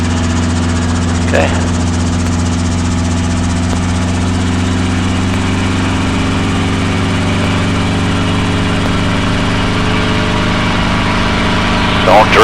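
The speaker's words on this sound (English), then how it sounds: "Engine is a little bit spitting, is that okay?" A training helicopter's engine idles on a heavy fuel load, giving a loud, steady droning hum with a fixed pitch throughout, and a person briefly speaks over it.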